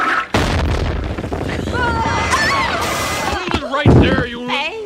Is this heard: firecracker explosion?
yes